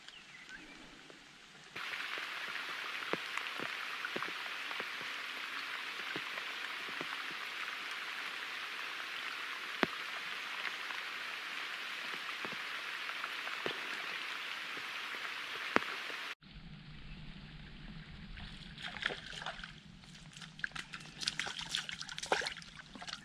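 Steady rain falling outdoors during float fishing for crucian carp, a dense continuous patter with scattered sharper drops, then a shift to a closer, heavier spattering near the end, with no talk.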